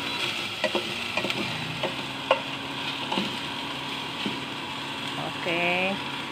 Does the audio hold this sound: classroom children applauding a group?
no